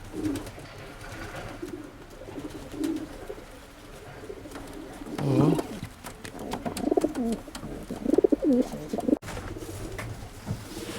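Racing pigeons cooing inside a loft, several soft throaty coos rising and falling close by over a faint background hiss, with no talking.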